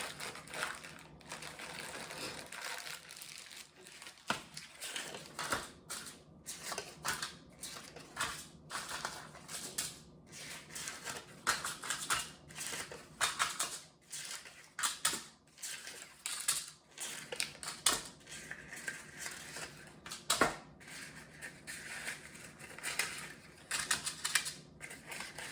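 Paper muffin liners are handled and set down in a kitchen, making scattered crinkling rustles and light clicks in irregular bursts, close and quiet, with no talking.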